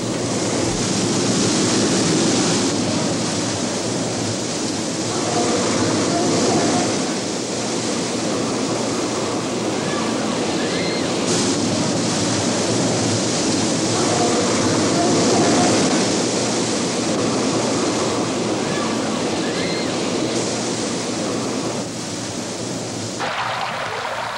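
Staged flash flood at a Hollywood theme park, with thousands of gallons of water released from hilltop tanks rushing downhill, a loud continuous roaring wash that lasts throughout with no voices.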